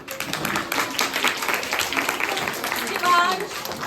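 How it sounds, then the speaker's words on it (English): An audience at a school Environment Day quiz competition claps for the participants, a scattered patter of hands that mixes with voices and room noise. "Please clap for them."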